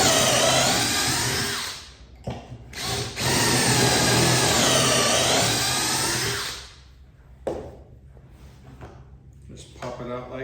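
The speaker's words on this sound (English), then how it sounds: "I'm just going to go ahead and put 2 pocket holes in" A power drill bores two angled pocket holes through a wood board set to 1.5 inches, each a loud sustained whirring burst lasting a few seconds, separated by a short pause, followed by quieter handling clatter and talk.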